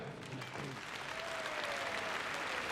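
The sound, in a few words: audience applause at Crufts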